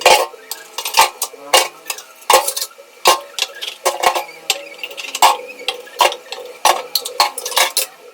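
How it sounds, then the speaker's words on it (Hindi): Steel utensils, pots and pans clatter and clink repeatedly in an irregular rhythm while being washed at home, close and fairly loud, with no talk. "बर्तन धो लेते हैं और सारी साफ़ सफाई कर देते हैं यहाँ की"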